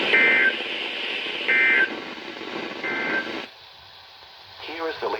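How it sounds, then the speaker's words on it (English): A NOAA Weather Radio public warning alarm tone test sounds as loud, steady, pulsing tone bursts over a radio broadcast hiss, several seconds long, ending with a brief burst of broadcast speech. "the National Weather Service has just activated the public warning alarm tone in a test of the"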